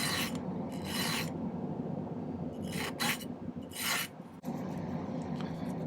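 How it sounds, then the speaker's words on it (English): Hand file working a small silver pendant piece in a silversmithing workshop, several close rasping strokes in bursts separated by short pauses, alone without speech. "Cut that off and file it."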